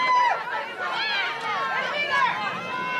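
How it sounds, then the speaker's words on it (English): Rugby crowd at a nationals fifth-place match building up noise near the end of the game, a steady babble of voices and shouts with some whistle-like cries over continuous crowd chatter. "we can hear the crowd kind of hyping it up here"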